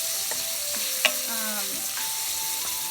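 Shrimp fry in a pan with a soft, steady sizzle, broken by light clinks and scraping of a utensil against the pan.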